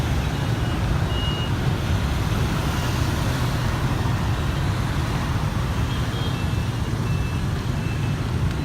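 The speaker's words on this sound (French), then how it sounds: "il y a beaucoup de voitures qui montent et de scooters" Steady, loud roar of cars and scooters driving uphill on the Long Bien bridge in Hanoi, engines rumbling continuously, vehicles passing close by without pause.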